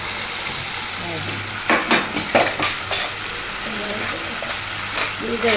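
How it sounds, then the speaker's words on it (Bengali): Tomato melts down in a hot pan before fish is added, giving a steady, close sizzle with stirring and scraping in short bursts. "এই যে টমেটোটা গলছে, এখন আমি মাছগুলো দিয়ে দিব।"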